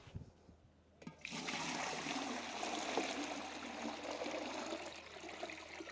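About seven to eight litres of water poured into a container on a farm to make an organic insecticide: a short knock, then a steady, full splashing gush that runs to the end.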